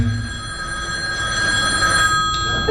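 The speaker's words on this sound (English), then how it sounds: "The phone rings occasionally." A telephone bell rings steadily at close range on a theatre stage, a sustained metallic trill that carries through the whole short clip, loud and alone without talk.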